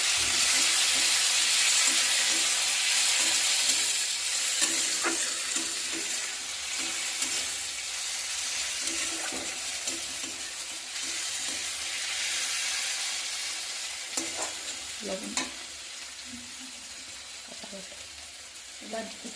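Tomatoes hitting a hot pan of frying onions and garlic set off a loud, steady sizzle and hiss that runs throughout, with occasional stirring scrapes and clicks mixed in.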